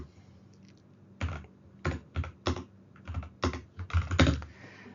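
Computer keyboard typing during a network lab session while entering router configuration commands: irregular bursts of close, crisp keystrokes in short clusters separated by brief pauses, with no talking.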